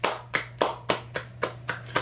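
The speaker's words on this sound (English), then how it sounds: "Clap it up." A single person claps along to a song, eight crisp, evenly spaced claps close to the microphone, with a faint low hum underneath and no talking.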